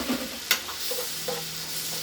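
Steady sizzling of seafood frying in melted butter in a pan, with a brief clink of a utensil and light stirring.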